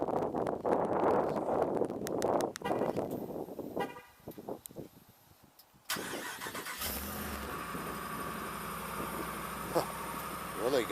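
A Ram Rebel truck with stock exhaust before a Borla install: starts with wind-buffeted outdoor noise and talk, then the engine turns over and settles into a steady, low, even idle.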